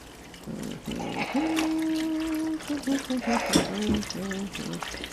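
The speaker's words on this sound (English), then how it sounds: "I'm going to use some rice cream. Put a little bit of that in there." Rice cream pours into a kitchen blender with a soft trickling splash, a short close stream under someone talking.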